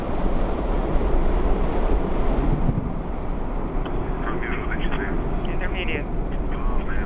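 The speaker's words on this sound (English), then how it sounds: "liftoff of the Soyuz 27 rocket and spacecraft" A Soyuz rocket lifts off with a broad, continuous roar like rushing wind, loud and steady, with a faint voice beneath it.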